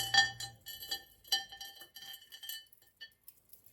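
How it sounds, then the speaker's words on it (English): Bright clinks and taps of a Carnival glass dish being handled during holiday hutch decorating, a string of ringing chimes and small knocks of varying loudness, close by with no talking. "this is another Carnival glass dish"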